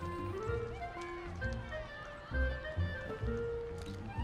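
Horse in the video game Disneyland Adventures, galloping hoofbeats thudding in a rhythmic clip-clop alongside game music tones, with an occasional heavier thump.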